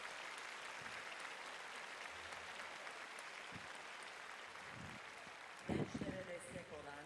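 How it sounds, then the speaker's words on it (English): University graduation ceremony crowd applauding the parents, a faint, distant, continuous patter of clapping across a large hall, with a voice briefly speaking near the end. "So please, a round of applause for the parents."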